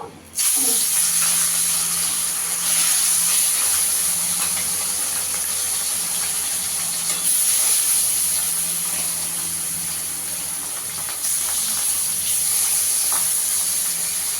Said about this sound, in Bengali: আমার তেলটা গরম হয়ে গেছে, মাছগুলোকে ভেজে নেব।